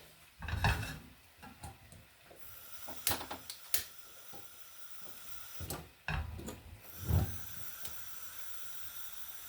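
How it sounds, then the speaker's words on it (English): A metal frying pan set on a stove ring gives a few clattering knocks and scrapes against a low background hiss, with sharper clanks near the start and after the middle. "I'm going to get another frying pan, pop this on the back."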